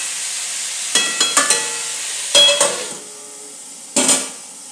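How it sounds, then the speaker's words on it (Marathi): A pan of food frying on the stove with a soft steady sizzle, broken by several ringing metallic clanks of a utensil against the pan in short clusters, close by. "आता त्याला फ्राय करून घ्यायचं"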